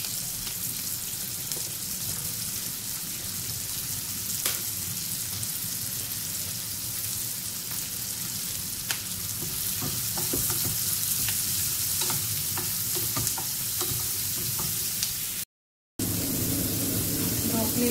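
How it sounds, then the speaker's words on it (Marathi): Vegetables and mushrooms sizzle steadily in a pan on a home stove, with scraping stirs now and then; a voice talks over the frying. "2-3 मिनिटांसाठी आपल्याला भाजून घ्यायचं आहे थोडं। मशरूम टाकते याच्यामध्ये।"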